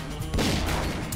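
Gunfire at zombies in House of the Dead: Overkill, a loud, dense blast of shots and booming impacts over a thick wash of game noise.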